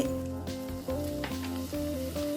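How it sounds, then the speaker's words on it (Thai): Shrimp paste stirred with a little water in a pan over low heat gives a soft continuous sizzle and stirring, heard beneath prominent background music. "เมื่อใส่กะปิลงไปเราต้องใช้เป็นไฟเบาๆนะคะ เพื่อจะผัดให้กะปิเนี่ย เขาเข้ากับส่วนผสมต่าง ๆ"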